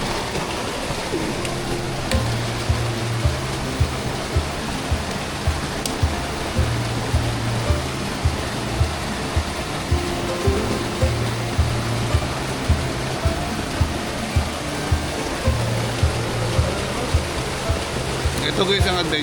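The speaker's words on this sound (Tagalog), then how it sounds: "Grabe, umuulan." Steady, dense rain pours outdoors as people sit down to a meal of fried food and sinigang, a continuous even hiss filling the whole stretch, with faint voices underneath.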